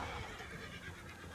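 A horse neighs in the video game Red Dead Online, a faint whinny with light hoof clatter as it runs away.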